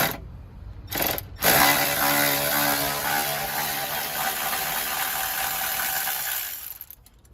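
A power tool, likely an air or electric ratchet, spins off a 10 mm bolt holding the AC compressor on a 2002–06 Hyundai Santa Fe: a brief burst, a short pause, then a steady close whir for about six seconds before stopping.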